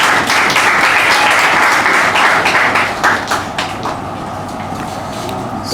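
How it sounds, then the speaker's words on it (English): An audience applauds at a university faculty of accounting and finance project launch, brisk dense clapping that is loudest at first, then thins into scattered claps and trails off over about six seconds. "Now, a round of applause"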